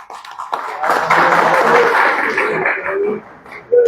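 Brief clapping at a press conference in Uttarakhand, a close patter of hands over a few seconds that fades out, with someone talking loudly over it.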